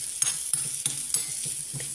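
Crushed coconut frying in a pan, a soft steady sizzle with periodic stirring scrapes roughly every third of a second, fairly quiet and close.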